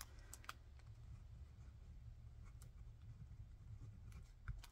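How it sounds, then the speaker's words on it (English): A gel pen writes on sticker paper up close: faint scratchy strokes with small ticks over a quiet low background hum, and no talking. "Let's see how it takes gel pens."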